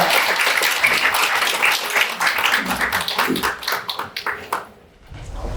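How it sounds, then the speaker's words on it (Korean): An audience at an education forum claps loudly in welcome of a visiting superintendent: dense, close applause that thins into separate claps and dies away near the end. "다시 한번 박수 한번 드리겠습니다."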